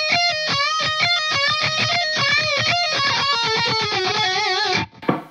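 Bluesy electric guitar lick from a rock solo, a fast run of bent and sliding single notes played alone, steady and fairly loud, ending in a brief scrape near the close.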